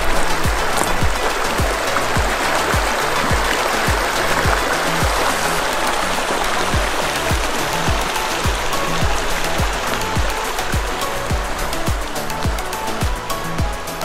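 A river in the Monache Meadow backcountry rushes steadily, a dense broadband wash of flowing water that stays loud and even throughout, with no talk over it.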